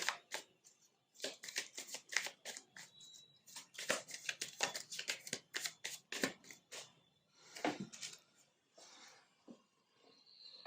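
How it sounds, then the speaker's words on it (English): Tarot cards being shuffled and drawn by hand: a long run of crisp riffling and flicking bursts, close and fairly quiet, with brief pauses between shuffles and no speech. "let's pick out some tarot cards for you"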